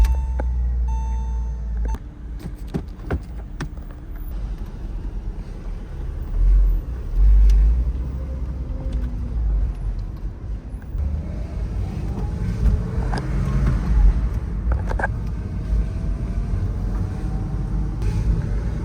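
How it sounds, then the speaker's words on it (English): A 2001 Porsche Boxster S with a 3.2 liter six-cylinder engine drives along, its low steady engine drone and road noise heard from inside, with occasional faint beeps and light knocks and no talking. "This is a 2001 Porsche Boxster."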